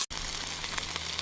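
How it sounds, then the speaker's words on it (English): Hot dogs frying on a UST folding camp stove outdoors at a campground, a steady close sizzle with soft crackles after a brief click at the start. "I'm frying up some hot dogs"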